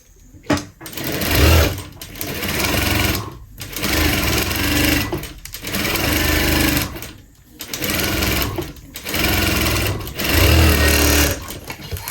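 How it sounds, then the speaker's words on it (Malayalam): Sewing machine stitching the back neck of a kurti, loud close whirring runs in bursts of one to two seconds separated by short pauses, no speech over it. "ഞാൻ ഈ നമ്മുടെ ബാക്ക് നെക്കും കൂടി ഒന്ന് സ്റ്റിച്ച് ചെയ്തെടുക്കുന്നുണ്ട്"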